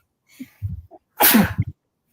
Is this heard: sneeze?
yes